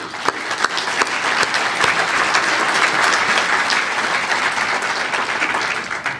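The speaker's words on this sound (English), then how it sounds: "Please give yourselves a round of applause to our champions tonight." An audience at a Summit Racing Series division champions evening gives a loud, sustained round of applause, dense clapping from many hands filling the room evenly from start to finish.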